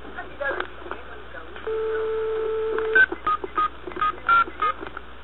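Telephone dialing tones on a phone line in a Brazilian radio parody show: a steady tone, then a quick series of about seven short beeps in an even rhythm, clear and close.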